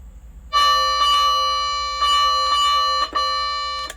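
A loud electronic two-tone siren chime on a 1995 Honda Acty fire truck conversion sounds in repeated sustained bursts, with short crackly breaks between them and a low hum beneath.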